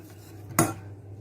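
A utensil clinks once against a bowl while a marinade for oven-roasted rabbit is mixed, a single sharp scrape-and-tap in an otherwise quiet kitchen.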